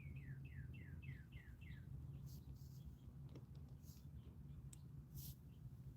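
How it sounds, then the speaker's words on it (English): Several birds chirp outdoors in a quick series of short, descending tweets at moderate distance, set against a steady low rumble of background noise, with a few faint higher calls later on. "listening to the birds chirp"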